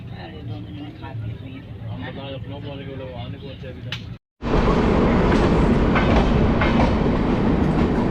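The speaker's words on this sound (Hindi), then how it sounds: "लखनऊ पहुंचते ही राजधानी की क्रॉसिंग देखने को मिल गई" New Delhi–Dibrugarh Rajdhani Express passing on an adjacent track at Lucknow, heard from a neighbouring train; a loud, close roar of wagons with rhythmic clickety-clack sweeps in after a brief gap, following a stretch of quieter rail noise.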